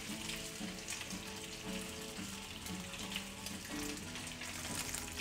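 Beef bacon sizzles in a frying pan with a steady, even hiss that holds at a consistent level throughout, close up and with no voices.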